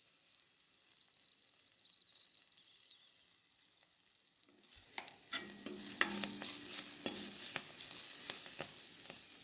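Stems fry on a low flame. The first half is near silence with a faint high tone. The second half brings a soft sizzle and repeated scraping and clicking of a spatula stirring in the pan.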